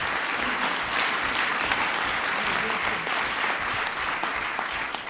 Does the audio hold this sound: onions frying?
no